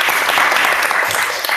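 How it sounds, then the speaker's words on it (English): A brief, loud burst of dense applause from a student gathering, many hands clapping steadily and close throughout. "We get a round of applause for this."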